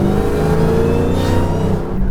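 A loud 1,000-horsepower Dodge Challenger Hellcat engine revs steadily with a deep, rumbling, lopey idle and harmonic growl, close by, with no voices.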